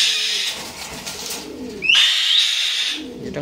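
White, red-eyed pigeons coo softly from close by, broken by a brief sharp chirp midway, with no voices.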